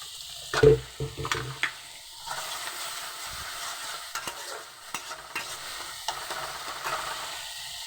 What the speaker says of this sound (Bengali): এই মশলাটাকে একটু কষিয়ে নেব।